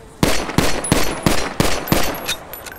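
An SNS Pistol in GTA 5 fires six sharp, close gunshots in a steady, slightly spaced rhythm during a firing test, each crack loud and punchy with short decays and faint metallic clinks between.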